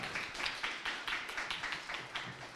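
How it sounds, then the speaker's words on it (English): An audience at a startup demo day claps in a steady, fairly even rhythm of separate hand claps that sound a little distant. No voices are heard. "Let's give it a loud round of applause"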